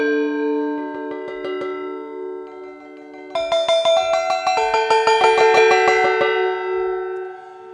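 The Mystic Bells patch from Heavyocity's Symphonic Destruction orchestral sample library: sustained metallic bell tones ring out, then a loud, rapid, rhythmic pattern of layered bell strikes builds and swells before settling into a ringing tail.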